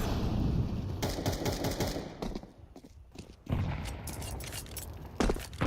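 Pistol gunfire in a Counter-Strike esports match, with rapid bursts of shots and clatter at moderate loudness, a quieter lull midway, then renewed firing near the end.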